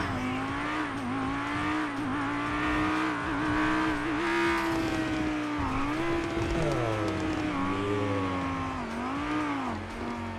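A car engine in the video game GTA 5 roars loudly and continuously, its pitch climbing and dipping through repeated revs and gear changes, with some tire squeal mixed in and no talking.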